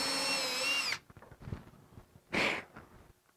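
Power drill boring screw holes in a wooden sailboat hull, one loud, steady whirring burst at the start and a second short burst later, with quiet handling noise between.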